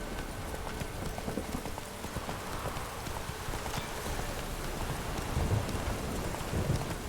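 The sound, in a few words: horse Roach trotting, from video game The Witcher 3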